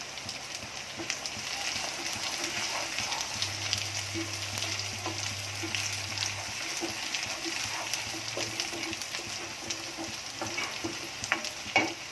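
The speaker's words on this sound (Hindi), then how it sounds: "करी पत्ता डाल रही हूँ" Curry leaves frying in hot oil for a spiced green bean dish, giving a continuous crackling sizzle like light rain with occasional stirring knocks, close and steady for about twelve seconds.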